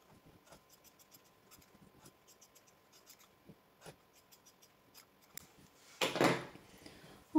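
Scissors cut fabric for a patchwork Christmas cushion: a run of faint, crisp snips and ticks, then a short louder burst of rustling and cutting near the end, with no voices.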